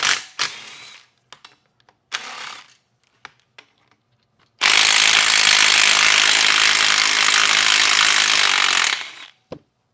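Bolts come out of a Nissan RE5R01A five-speed automatic transmission, some tighter than others, as short rasping bursts from a tool followed by a long, loud continuous power-tool whir close by, with no speech.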